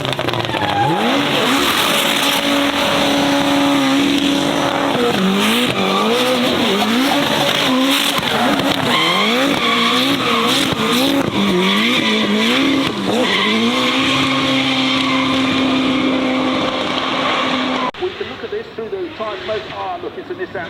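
A Nissan Silvia drives at the Goodwood Festival of Speed. Its engine is loud and close and revs up and down through gear changes for about 17 seconds, with some tyre squeal. The sound then cuts to a quieter scene.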